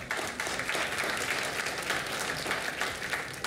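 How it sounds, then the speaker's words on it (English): Audience at a sports awards event giving a round of applause, with continuous brisk clapping from a large crowd at moderate loudness and no speech. "Huge round of applause for both of them one more time."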